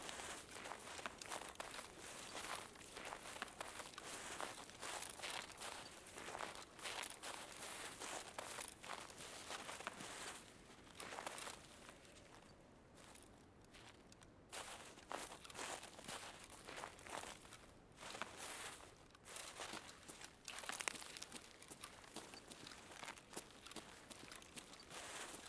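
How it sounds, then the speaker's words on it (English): Crunchy footsteps in a video game, loud and continuous, stepping steadily over a gritty surface for the whole stretch with brief lighter pauses. "So loud, my, like crunchy footsteps."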